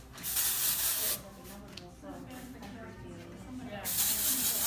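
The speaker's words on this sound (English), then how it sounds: "So we're just going to pull that hair into sections, give a healthy spray" Texture spray hisses onto sectioned hair in two loud, steady bursts, one at the start and one at the end, with someone talking in between.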